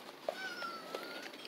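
A feral black and white cat gives a single short, faint meow at a distance in a quiet night setting.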